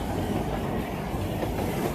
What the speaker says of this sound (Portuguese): Ó, o metrô passando aqui.